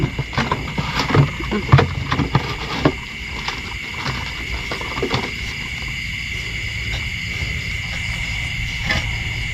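Crickets chirp steadily in the background, a continuous high trill, with scattered rustling and scraping of digging up close.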